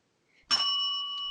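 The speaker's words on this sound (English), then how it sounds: "I have a bell." A single bell struck once to mark a round on a comedy game show, ringing out loud and close with a bright, sustained tone that hangs on without fading.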